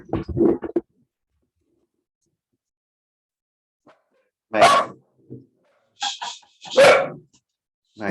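Two dogs give short, sharp barks and yips in bursts, one burst at the start and several more toward the end, separated by a long quiet stretch, fairly close and loud.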